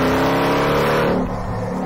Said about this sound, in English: The engine is nuts. The sound it makes is brilliant.